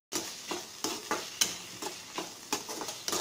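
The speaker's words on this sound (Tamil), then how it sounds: "தக்காளி நல்லா வதங்கிடுச்சு ஃப்ரெண்ட்ஸ்" Tomatoes being stirred and sautéed in a pan, a regular series of sharp scraping spatula strokes, roughly three per second, over a soft sizzle, close and clear with no talk.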